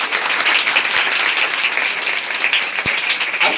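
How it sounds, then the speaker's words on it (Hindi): A crowd at a village gathering claps steadily, a dense, even wash of hands close by that fills the moment, with a couple of sharp louder claps standing out. "ताली बजाओ उनके नाम के"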